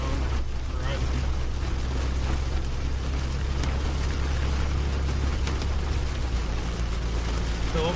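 Steady rain during a tornado-warned storm near Follett, a constant dense hiss with a deep rumbling undertone that runs throughout and stays loud.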